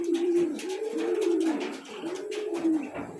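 Racing pigeons coo close by in a small loft setting, giving several soft, rolling low coos in a steady rhythm, with faint background rustle and no talk heard.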